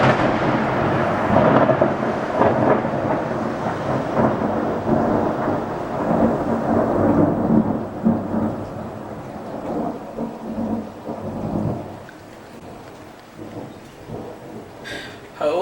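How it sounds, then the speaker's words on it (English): Loud thunderstorm directly overhead, with heavy rumbling thunder rolling continuously through the first twelve seconds over steady rain, then easing to quieter rain before a fresh crack at the end. "we've got rather a large thunderstorm overhead right now"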